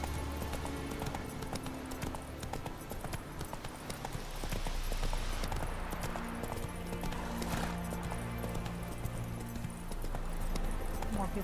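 Roach the horse gallops in The Witcher 3, hooves thudding in a steady, fast clip-clop rhythm that runs throughout, with game ambience and music beneath and a voice briefly over it.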